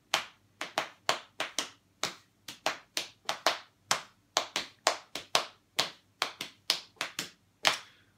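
Sharp hand claps in an uneven, interlocking 4-over-3 polyrhythm, two rhythms overlapping steadily, close and crisp with no talking.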